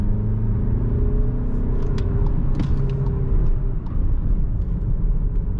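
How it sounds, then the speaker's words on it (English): A car accelerates at full throttle, its engine a loud, close, steady low rumble and drone heard from inside with road noise, with no talk. "full throttle, guys, full throttle. This is full throttle."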